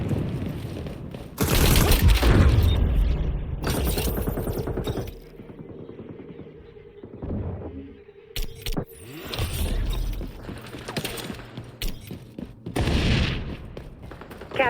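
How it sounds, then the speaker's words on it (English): Video game XDefiant: a flashbang goes off with a loud bang, followed by bursts of automatic gunfire and further shots, heavy and close, with quieter gaps between the loud bursts and no talking. "Throwing flashbang."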